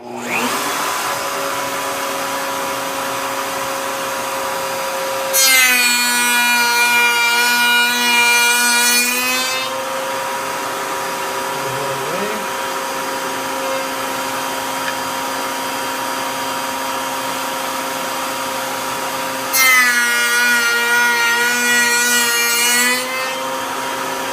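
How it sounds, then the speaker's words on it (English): Table saw cutting tenons in a wooden board on a miter gauge: the motor hums steadily while two separate passes of the blade through the wood, each about four seconds long, rise into a loud, harsh whine. "And there I have my tenons perfectly cut"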